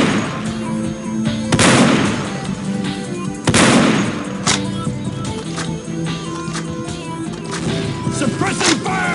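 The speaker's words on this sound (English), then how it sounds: "Suppressing fire." Gunfire in Unreal Tournament 2004 capture-the-flag with ballistic weapons: loud sharp reports burst out around the second and fourth seconds, with scattered shots and crashes over a busy game-sound bed and occasional voices.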